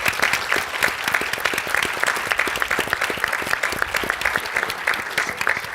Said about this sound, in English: please, let's give a big round of applause to the nonprofits